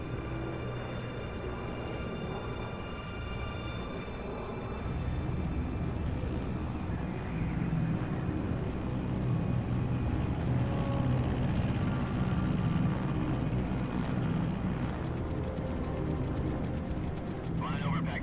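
An aircraft flies over Pakistan at 30,000 feet in a Metal Gear Solid scene, a steady, loud engine drone that swells slightly midway, with faint voices and game sounds layered over the continuous hum.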